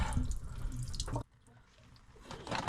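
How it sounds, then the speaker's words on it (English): Brown radiator flush drains from the bottom hose of a classic Mini Cooper RSP radiator, a steady close splash of liquid that drops away halfway through, then swells again. "get the hose off the bottom of the radiator and drain out the rad flush that's currently in there"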